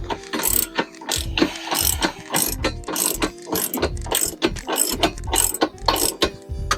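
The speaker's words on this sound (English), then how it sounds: "So now we're gonna grab a ratchet." Ratchet tightening the hitch bolts on a 2021 Toyota Highlander: rapid, rhythmic metallic clicking in quick bursts, close up and loud, continuing throughout with no talk.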